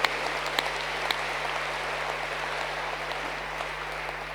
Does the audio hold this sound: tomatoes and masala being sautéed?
no